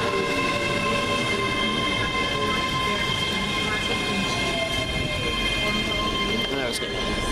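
A diesel passenger train bound for Queen Street gives a loud, continuous rumble and drone heard from on board or close by, with a brief horn-like tone near the end.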